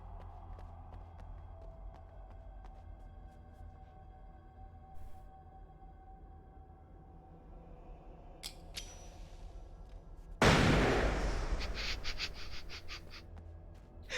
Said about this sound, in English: It's a flashbang, don't worry. I did not throw an explosive.